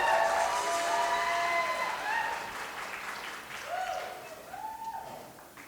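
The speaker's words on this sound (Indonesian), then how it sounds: "Sekali lagi tepuk tangan." Applause from a church anniversary audience, a dense clapping wash that slowly fades, with voices and tonal sounds mixed in.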